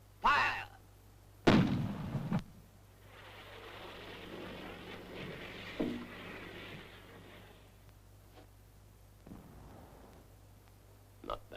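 A field artillery gun in a 1957 war film fires with a sharp, loud blast followed by a long rumbling roar that fades away, with radio-style voices heard before and after.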